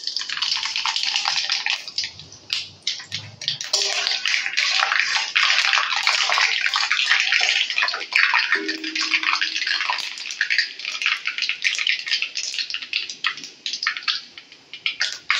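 Dried red chilies and mustard seeds fry in hot oil for a Bengali raw mango pickle, producing a loud, continuous close-up sizzle and crackle with brief dips as the spices settle.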